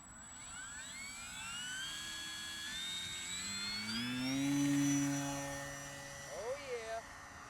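A Durafly Tundra V2 1300mm RC plane whines through its maiden flight, the electric motor's pitch rising and sweeping as it passes, swelling louder midway then fading, with a brief burst of wind or handling noise near the end.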